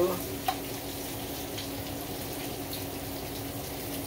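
Potatoes frying in a pan for a German farmer's breakfast, a steady dense sizzle throughout with a single faint clink near the start.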